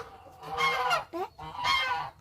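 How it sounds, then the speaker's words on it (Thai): Geese honk loudly and close by in two long, harsh bursts separated by a brief nasal call. "ไอพูนห่านนะคะ"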